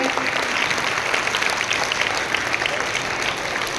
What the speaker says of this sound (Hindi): जोरदार क्लैप करें।